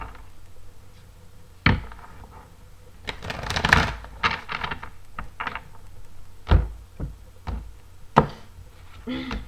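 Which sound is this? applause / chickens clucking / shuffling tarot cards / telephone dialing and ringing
shuffling tarot cards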